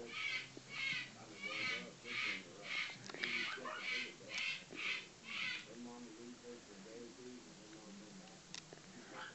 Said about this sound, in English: I'm apologizing about the noise in the background. I have more birds.